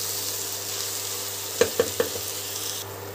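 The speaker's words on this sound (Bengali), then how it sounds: "এই অবস্থায় আমি এক দু মিনিটের মতন রান্নাটা হতে দেব হাই ফ্লেমে।" Bottle gourd with green chilies frying on high flame, a steady sizzle throughout with three quick sharp taps of a utensil midway, nearby and with no talking.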